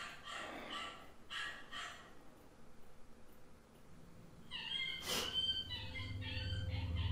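A frightened dog gives high, wavering whines and cries, several in quick succession in the second half, heard fairly close over a low steady rumble.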